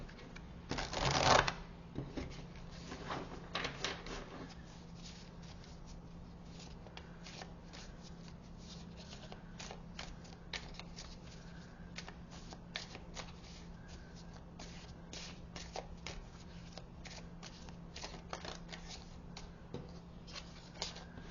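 Tarot cards are shuffled nearby in a brisk riffle at the start, followed by a long run of soft, irregular card flicks and taps, quiet and close, with no talking.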